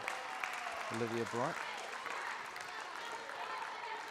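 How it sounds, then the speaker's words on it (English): Team applause at a girls' secondary schools basketball semifinal, a broad steady patter of clapping lasting the whole stretch, heard at a moderate distance in a gym, with a brief tonal whistle-like sound and faint voices underneath. "Normally seeing a team applaud like that may mean that she's on her 5th."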